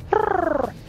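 A pet chicken purring: one short, close, rolling trill with a fast fluttering pulse, heard alone against quiet room tone.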